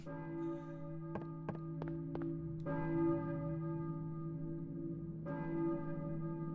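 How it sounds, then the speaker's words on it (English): A deep church bell tolls in the Silent Hill video game, with a few sharp struck tones ringing out over a sustained, humming resonance, moderately quiet and with no voices. "a church bell, maybe? Who is ringing the bell?"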